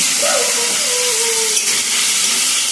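Onions frying in oil for bhapa biryani, a steady loud sizzle and hiss throughout with no talking.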